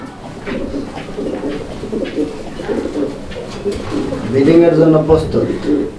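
Lahori pigeons coo repeatedly at close range, a male calling in low rolling, throaty phrases that swell louder toward the end, with people talking faintly around them.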